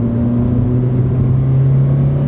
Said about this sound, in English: It's a fun little zippy car to drive around.